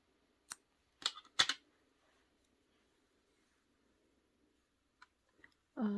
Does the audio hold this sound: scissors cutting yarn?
yes